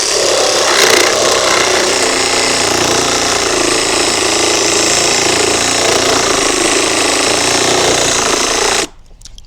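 An Ozito PXRSS-400 cordless reciprocating saw cuts through a piece of wood with drilled holes, making a loud, continuous buzzing rasp that holds steady for several seconds and then stops abruptly.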